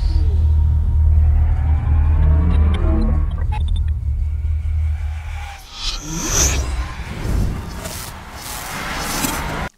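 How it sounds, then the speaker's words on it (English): Cinematic sound effects for an action-camera edit: a heavy low rumbling impact that fades out, followed by whooshing bursts and rising, fiery swells, loud and layered, with no talking. "we have some deep impact sound effects and some fire whooshes"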